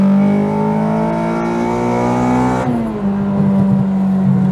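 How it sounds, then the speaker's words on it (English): A Honda Integra Type R with a K24 engine revs hard while being driven, a loud, raw, close engine note climbing steadily, then dropping briefly at a gear change before pulling again. "Driving the K24 Integra Type R."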